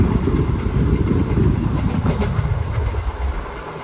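An express train of LHB coaches, the Madurai–Kacheguda, thunders past nearby with rumbling wheels and clacking, then the roar fades away as the last coaches pull off.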